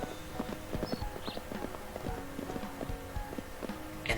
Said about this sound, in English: Good thing you can go full gallop on the horse the entire time.